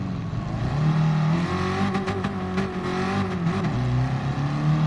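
A racing car engine in the video game Gran Turismo Sport drones and revs continuously at moderate volume, its pitch rising and falling slightly.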